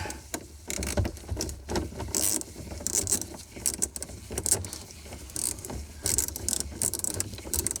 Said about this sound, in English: so I got to get the 1/4 inch drive sockets.